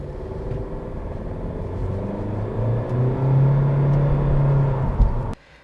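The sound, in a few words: 2022 Honda Civic VTi LX CVT engine droning under throttle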